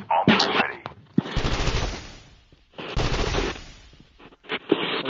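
Automatic gunfire in a Call of Duty battle royale match, bursts of rapid shots sounding loud and close in two main stretches with brief gaps, while a player talks over it.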